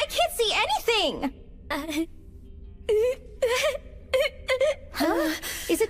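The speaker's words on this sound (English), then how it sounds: "does it sound like someone is crying?" A girl in an English-dubbed anime cries in broken, wavering sobs and moans, short bursts separated by silent gaps, close and fairly loud.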